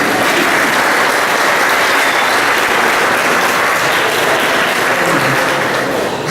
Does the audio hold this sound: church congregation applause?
yes